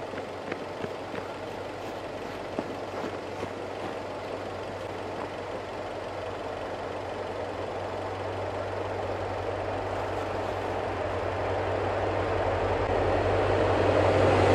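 CSX OCS train rolling past at night, a steady broad rumble with a low drone that swells gradually louder toward the end, with no voices.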